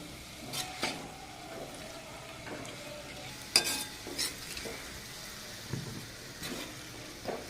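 Village-style cauliflower and pea bhaji stirred in a pan: soft frying sizzle under scattered spoon scrapes and clacks against the metal, fairly quiet and close.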